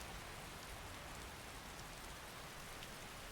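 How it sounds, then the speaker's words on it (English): Steady rain falls in the video game Skyrim as a dense, even hiss of drops with no talking, continuous and fairly soft throughout. "sit and wait for the rain to stop here"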